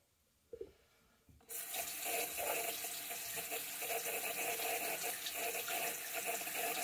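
A tap is turned on and water runs steadily into a sink, a loud continuous rushing that starts after a short quiet moment with a few small knocks and carries on to the end.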